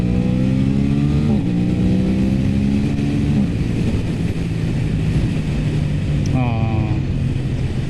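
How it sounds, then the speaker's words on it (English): An Aprilia RS 660 motorcycle's exhaust revs up in rising pulls, with the engine note climbing, holding, dropping, then surging again; loud and close, with a voice talking over parts of it. "But that exhaust, just listen to it."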